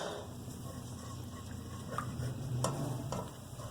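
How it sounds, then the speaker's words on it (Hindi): Garlic sizzles in about three tablespoons of hot oil in a pan for chicken shawarma, a steady close hiss and crackle with a few faint utensil ticks and stirs, and no talk over it. "इसमें मैं ये लहसुन ऐड कर रही हूँ। इसे थोड़ा सा हम फ्राई करेंगे।"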